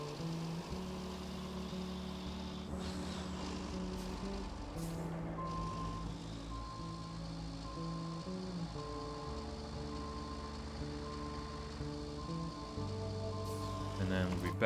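Dump truck backing up slowly, its reversing alarm sounding in a regular series of steady beeps over a low diesel engine rumble.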